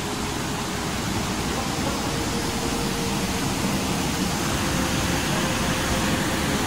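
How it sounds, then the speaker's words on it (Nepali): Steady, loud rushing of a waterfall at the spring source of the Bairahari Khadi stream, a dense continuous roar with no breaks, heard close by and without voices. "वाउ, बैरहारीको झरना"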